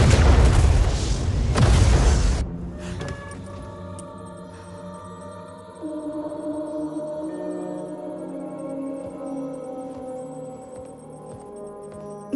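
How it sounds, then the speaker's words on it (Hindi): A missile explosion in an action film opens with a loud, deep boom and rumbling blast for about two seconds, then gives way to a ringing, tonal dramatic score that carries on quietly without speech. "सॉरी सर, मिसाइल लॉन्च हो चुकी है। 30 सेकंड में धमाका हो जाएगा।"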